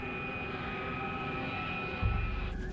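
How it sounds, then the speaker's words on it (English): A damaged jet airliner descending, its engines a steady loud roar with a high whine throughout, joined near the end by a deeper rumbling burst. "I know we're in serious trouble because the airplane is still going down."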